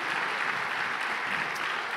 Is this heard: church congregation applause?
yes